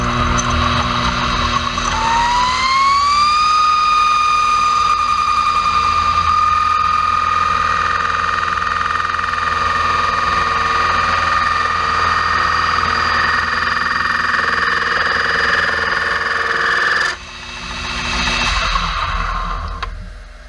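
A knurl is cut dry, without coolant, on an RF1-231 clone milling machine, giving a loud, sustained tonal whine. The pitch rises early, then holds steady for about fifteen seconds before a brief drop and a rougher tail.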